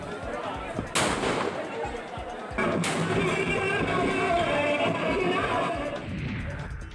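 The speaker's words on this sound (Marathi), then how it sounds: "माजी सरपंचाने हवेमध्ये दोन राऊंड फायरिंग केलं" A former village head fires two rounds into the air at a victory celebration, heard as two sharp, loud cracks about two seconds apart over crowd noise and a reporter's voice.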